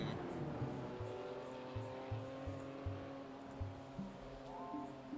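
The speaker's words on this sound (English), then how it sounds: "Upshifting, downshifting." Engine drone of a race car in the iRacing sim game, with repeated abrupt gear-shift blips as it upshifts and downshifts, pitch rising and dropping in steps; moderately loud and continuous.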